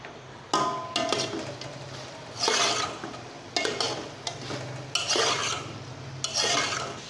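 Onions are stirred in a pan over a flame for a creamy white sauce pasta, with repeated scraping strokes of a spoon against the pan at an uneven rhythm and a soft sizzle between them.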